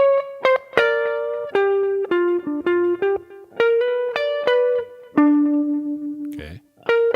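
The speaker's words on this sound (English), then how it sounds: "this is a very common turnaround lick." A blues turnaround lick on electric guitar, a run of clear sustained notes and quick plucked phrases that step downward and resolve, played alone and close with a short scratchy noise near the end.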